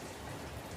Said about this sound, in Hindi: पर बहुत तेज़ बारिश हो रही है